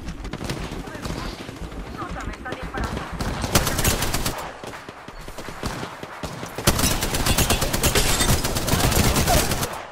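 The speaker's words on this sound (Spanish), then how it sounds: "Disparando." Sustained automatic gunfire in the Apex Legends battle royale, dense overlapping volleys that swell and drop back before another heavy stretch of shooting, with a voice talking over parts of it.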